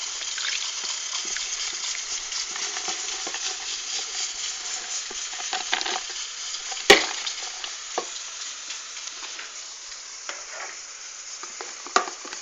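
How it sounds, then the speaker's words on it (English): Soap is stirred steadily in a pot while making homemade laundry liquid, a continuous close hiss and slosh with a few sharp clinks of the spoon against the side. "We're just going to mix it until all of the soap is melted."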